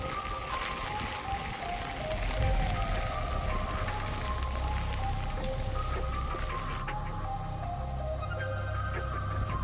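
Torrential rain pouring during Hurricane Francine's landfall in southern Louisiana, a loud, continuous hiss and roar that runs unbroken throughout beneath steady sustained tones.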